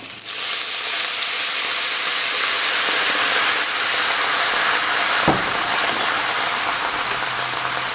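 Broth poured onto onions in a hot pan for braised paprika chicken, a loud continuous hiss and sizzle filling the whole stretch, with one sharp knock partway through.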